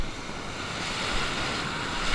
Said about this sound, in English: These waves keep hitting me back to back,